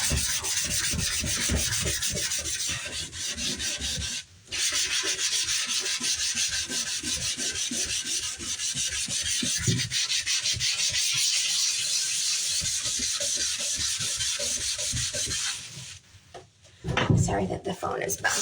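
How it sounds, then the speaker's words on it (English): A scouring pad scrubs rust in a bathtub with loud, close, rapid back-and-forth strokes, rough and continuous, broken by a brief pause early on and another near the end before a few final scrapes. "So we're going to take our scouring pad."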